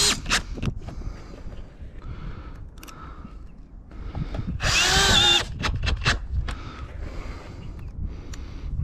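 Power drill driving fasteners into exposed-fastener metal roofing panels, several short bursts of whirring with one long loud screw-in run midway, each ending in a sharp bite against the metal, close and clear.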